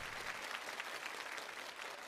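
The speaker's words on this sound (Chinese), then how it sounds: "再次掌声祝贺我们的挑战者，祝贺祝贺祝贺。" A television studio audience on a challenge show applauds a successful challenger with steady, even clapping at a faint, distant level, a continuous patter with no pauses.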